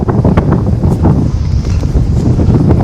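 Wind gusts near a cave in Vietnam, buffeting the microphone in loud, uneven rumbling bursts with faint rustling and brief knocks, no speech heard.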